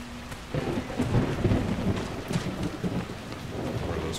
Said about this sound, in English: Lightning hitting everywhere.